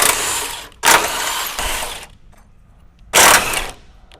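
An 18 mm socket on a ratchet or impact tool loosens bumper bolts on a 2017-2022 Ford F-250, firing in three short, loud, rattling bursts separated by brief quiet gaps.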